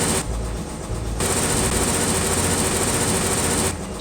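A modded Minecraft tractor engine rumbles steadily at a loud, constant level, with rapid mechanical chugging and brief shifts in tone at the start and end.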